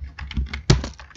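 Rapid keystrokes clatter on a computer keyboard as CSS code is typed, close and fairly loud, a run of light taps ending in one sharper, heavier key strike.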